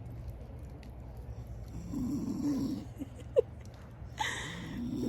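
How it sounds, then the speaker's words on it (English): Soft, low rasping snores from a person camping outdoors rise and fall under a steady low hum, with a couple of brief sharp noises near the end. "Could that be snoring? Why, yes, it is snoring."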